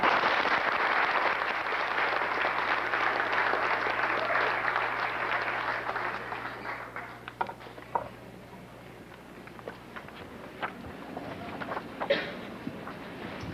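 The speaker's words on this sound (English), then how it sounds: "can give them a round of applause." An audience at a school event applauds in a broad wash of clapping that fades over several seconds, leaving scattered individual claps and taps against a quiet room hum.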